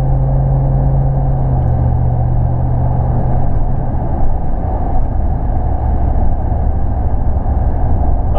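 Steady engine rumble and road noise from inside a Toyota Tundra pickup truck, the low drone easing slightly as it brakes and slows, loud and continuous throughout.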